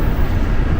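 A KRL commuter train runs at speed, up to 95 km/h, near Jakarta's Cipinang depot, giving a steady, loud broadband rumble and rattle throughout with no talk.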